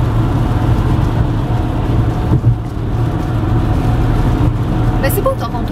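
A car drives through Toronto in the rain, a steady low road-and-engine rumble with wet tire hiss filling the cabin, continuous and fairly loud throughout.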